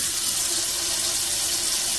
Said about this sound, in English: it looks like it's picking up more water than the one that looks good